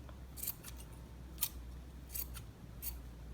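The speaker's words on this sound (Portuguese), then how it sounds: "Vocês vão cortando devagarzinho, vai ajeitando, ajeitando," Scissors snip fabric yo-yo into a pompom, giving four or five short crisp cuts with soft rustling between them, close and quiet, with no talking.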